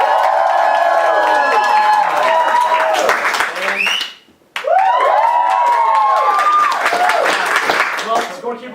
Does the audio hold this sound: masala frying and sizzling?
no